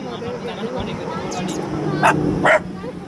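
A dog gives two sharp barks near the end, after a stretch of background noise with a faint whimper.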